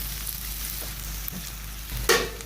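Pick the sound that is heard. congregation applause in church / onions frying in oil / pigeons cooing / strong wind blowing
onions frying in oil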